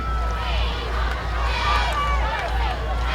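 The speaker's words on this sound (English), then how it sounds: "Good look at the Milan crowd." Crowd at a high school football game between Milan and Crockett County, a steady broad roar of spectators and chatter filling the stands, continuous and moderately loud with no single voice standing out.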